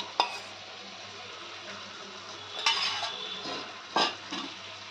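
A whole fish curry simmers and sizzles softly in a pan while a utensil stirs it, with three distinct scraping clinks over the low bubbling hiss.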